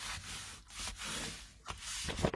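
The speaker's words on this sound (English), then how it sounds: "Really rub the back side, make sure it's on there really good." Paper being rubbed firmly by hand on its back side, a soft continuous scratchy friction sound in quick strokes, close and fairly quiet.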